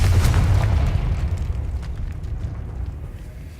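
A Confringo fire spell explodes in Hogwarts Legacy, a loud booming blast that hits at once and then rumbles and fades over a few seconds, with small crackles in the tail.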